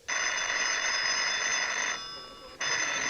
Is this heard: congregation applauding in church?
no